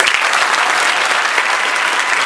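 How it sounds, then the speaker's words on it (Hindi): Loud, dense applause from an audience at an engineering admissions event in Meerut fills the room as a steady wash of clapping, with no talking over it. "मैं आप लोगों के लिए बहुत जोर की ताली बजाना चाहता हूं"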